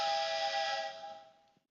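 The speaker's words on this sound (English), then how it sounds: "that sound was me being notified via text message of an event happening" A phone chimes with a text message notification, a bright ringing tone that starts loud and fades away over about a second and a half, with nothing else heard.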